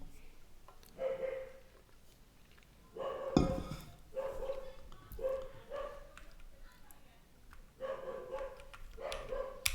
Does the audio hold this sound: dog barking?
yes